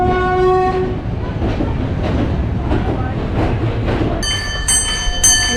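A train rumbles along steadily with rhythmic clatter of wheels, a horn sounding at the start and high tonal squeals near the end.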